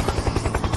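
A helicopter's rotor thumps in a fast, steady chop, loud and close, heard briefly on its own.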